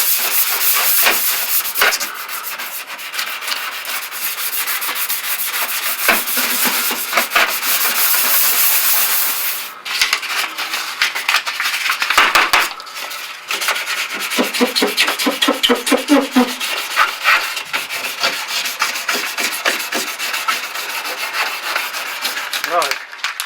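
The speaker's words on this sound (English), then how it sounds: "I've got to carry on just sanding the surface down to give it a good key for the paint to stick to." Hand sanding scrapes across the body panel of a SEAT/Fiat 127, a close, rasping hiss in quick back-and-forth strokes that pauses briefly midway and then continues in choppier bursts.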